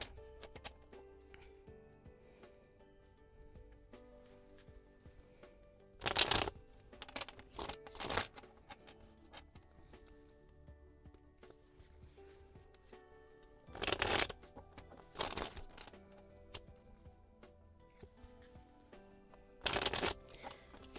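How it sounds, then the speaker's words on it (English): A deck of tarot cards gets shuffled during a live reading, three separate riffling bursts of crisp flutter spaced far apart, each followed by softer card handling, close and clear against a quiet room. "Shuffle the deck to release the energy of the deck."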